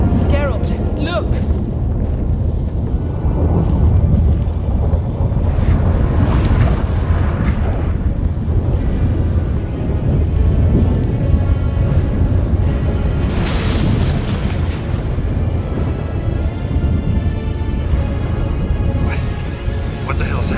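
Storm scene in The Witcher 3 video game: deep booming rumbles and gusty wind roar swell and fade across the stretch, with loud thunder-like bursts partway through, while characters speak over it.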